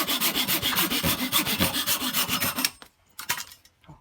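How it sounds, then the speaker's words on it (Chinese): A bamboo chopstick is cut to length with a small hand blade: rapid, steady rasping strokes of wood on wood for nearly three seconds, then a few short, close scrapes. "先把这个竹筷切成它合适的大小"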